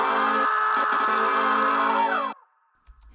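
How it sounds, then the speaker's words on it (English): A sound effect of a radio thrown out a window: a loud, sustained tonal blare with layered harmonics bends downward and cuts off abruptly, followed by near silence and a faint thump. "it's supposed to sound like you're throwing the radio out the window"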